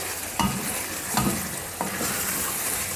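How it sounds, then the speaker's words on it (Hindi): Half-cooked chicken for a shorba curry is sautéed over a high flame: a dense, steady sizzle, with three scraping stirs of the spatula cutting through it at intervals, close up and without talk. "चिकन को हम तेज़ आंच पे भूनेंगे"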